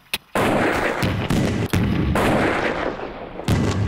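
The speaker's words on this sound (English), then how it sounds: "The massive mortars blew the laptops at least 20 metres into the air." Massive mortars fire and explode, blasting laptops about 20 metres into the air: a brief crack, then a sustained roaring series of heavy, close, loud booms and rumbling blasts with no talk.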